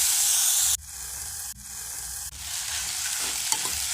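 Crushed tomatoes and carrots stirred in a sizzling frying pan for githeri: loud hissing fry with scraping stirs. The sizzle drops sharply several times as the spoon moves, and nobody speaks.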